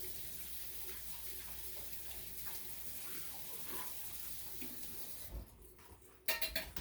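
A canning jar lid washed under a running kitchen tap, with a steady broadband water rush and faint clinks of metal against the sink. The flow cuts off near the end and a few brief knocks follow.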